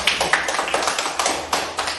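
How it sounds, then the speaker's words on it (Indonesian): Classroom students clap together in a quick, even rhythm, the sharp claps bunched close with no talk over them. "Ya, bagus sekali, tepuk tangan."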